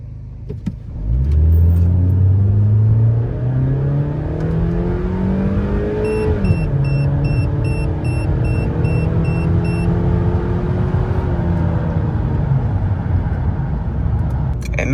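A 15-year-old Chevy Malibu with about 136,000 miles and an exhaust leak accelerates hard from a standstill to 60 mph, the engine climbing through rising revs with a clear gear shift, loud and close inside the cabin.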